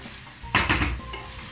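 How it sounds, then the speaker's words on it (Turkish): Frozen okra sautéing in a pan with a quiet sizzle, interrupted by a short burst of stirring and utensil scraping against the pan, then settling back to a low hiss. "bu şekilde biraz kavrulmasını bekleyelim."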